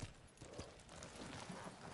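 Faint, muffled hoofbeats of a horse in the video game Ghost of Tsushima clop along at a steady walking pace, buried in a dense wash of broadband noise.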